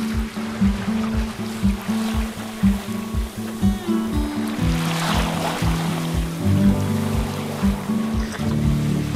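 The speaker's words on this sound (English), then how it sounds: "Oh, we're surging along now, probably 4 or 5 knots" Stornoway 18 sailing dinghy surging along at around four or five knots, water slapping and rushing past the hull in a steady rhythmic pattern of small splashes, close and moderately loud, with wind noise.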